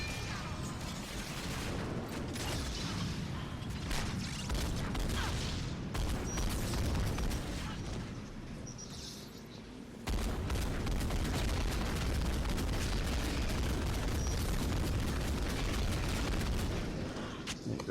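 Sustained, dense bombardment of explosions and gunfire from rockets and a heavy gun in the Mass Effect 3 multiplayer shooter, a loud continuous roar of blasts and shots with a brief dip before the barrage resumes at full intensity.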